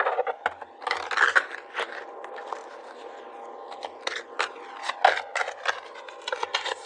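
Tarot cards are shuffled during a reading, giving soft, close rustling and riffling with scattered sharper flicks, fairly quiet and continuous with no talking.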